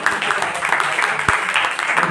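A school quiz audience at KV Armapur claps for a correct answer, a dense steady burst of applause throughout with a voice speaking over it.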